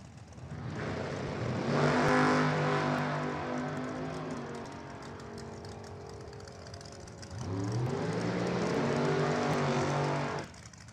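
Top drag cars launching at an NHRA divisional drag race, a loud engine roar swelling to a peak and easing off, then a second hard surge later before cutting out; no talking.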